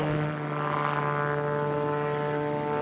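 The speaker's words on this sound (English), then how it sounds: "this aircraft is able to do these gyroscopic aerobatic manoeuvres" An aerobatic aircraft at an air display gives a steady, droning engine tone with strong harmonic buzz. It is continuous and moderately loud across the whole stretch, with no talk over it.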